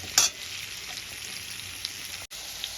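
Cut potatoes with salt and turmeric frying in oil left over from frying fish, a steady close sizzle with a brief louder crackle at the start and one short stir break near the end.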